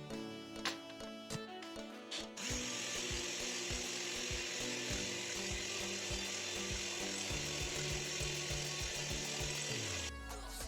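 Butterscotch pudding mixture beaten steadily with an electric hand mixer, a continuous close whirring and rattling that starts after a brief pause and runs to a sudden stop near the end.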